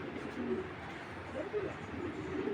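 A pair of large Mili pigeons cooing in a loft, soft repeated low coos over a steady background murmur, with voices nearby.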